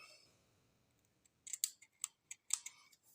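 Small scissors snip mustache hairs in a series of crisp, close metallic clicks, about seven quick cuts in an irregular rhythm after a near-silent start, with no voices.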